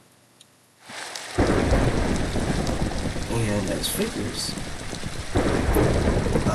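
A Minecraft lightning storm from a weather datapack bursts in after a quiet start, with heavy steady rain and rumbling thunder filling the space loudly while someone briefly speaks over it.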